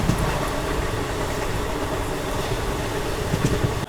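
The Bhubaneswar–Visakhapatnam Intercity SF Express rolls along its track beside Chilika Lake, a loud, steady rumble of wheels and carriages heard from inside an ICF chair car.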